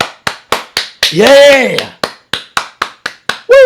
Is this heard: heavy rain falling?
no